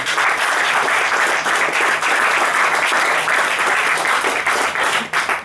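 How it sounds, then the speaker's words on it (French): Steady applause from an audience at a meeting with an author and composer, loud and sustained with dense overlapping claps for the whole stretch, no voices over it. "vous pouvez les regarder, les admirer. Et les applaudir."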